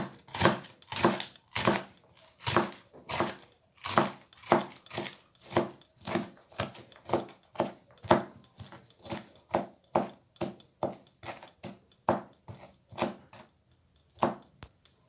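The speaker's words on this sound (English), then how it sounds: "Now I'm going to do the slicing of my pepper." A knife slices through pepper on a cutting board while preparing egusi soup, making a steady run of about thirty crisp, evenly spaced chopping strikes, close and clear with no talk.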